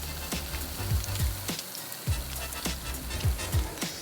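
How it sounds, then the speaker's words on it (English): A beef burger sizzles on a grill alongside onions, a steady close crackle with frequent sharp pops and spits running through the whole stretch, with no talking. "That sizzle speaks louder than words."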